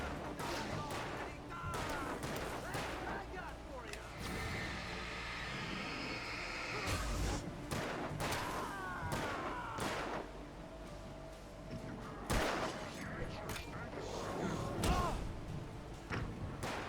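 Gunfire in the video game Alan Wake, repeated sharp shots in irregular bursts over a rumbling background, loud and close, with a voice talking at times.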